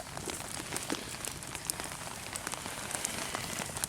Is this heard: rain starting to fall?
yes